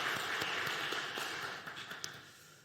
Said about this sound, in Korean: 우리 성수 2구역 그리고 경배와 찬양팀 축복하고 격려하는 박수 하도록 하겠습니다